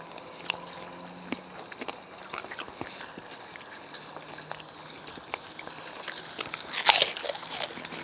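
Someone bites into a piece from a Thai hot pot, giving a scattered series of close, crisp crunches and chewing clicks over a quiet background, with a sharper burst near the end.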